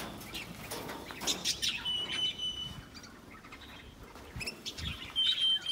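A caged male white canary gives short, bright chirps in scattered bursts, with clusters near the start and near the end over a soft background hiss.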